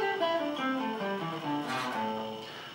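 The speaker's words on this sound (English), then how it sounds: "Today I thought we'd have a little look at something called a pentatonic scale." A pentatonic scale played on an instrument during a school assembly: clear single notes step downward one after another, then climb back up, played alone and fairly quietly.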